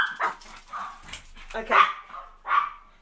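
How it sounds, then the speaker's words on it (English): Dogs bark indoors in a few loud, separate bursts, and a person speaks briefly between them. "I'm sorry, I have dogs in here."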